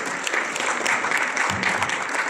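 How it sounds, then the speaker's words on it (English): Sustained applause from a conference audience honouring the speakers on stage, a steady dense clatter of many hands clapping throughout with no break. "this is not a political clap, but a genuine clap to all of those people"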